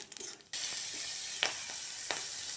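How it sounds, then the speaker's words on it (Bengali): Black cumin seeds hit hot oil left from frying fish for a fish curry and burst into a sudden steady sizzle, close and fairly loud, with a couple of sharper crackles and no talking. "সেই তেলেতেই আমি একটু কালো জিরে ফোড়ন দিলাম"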